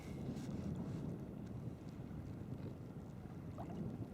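Wind buffets the microphone while sea kayaking off Elgol on Skye, a low, rumbling gusty roar with faint water splashes, fairly quiet and continuous throughout with no voices.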